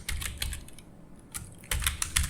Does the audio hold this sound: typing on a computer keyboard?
yes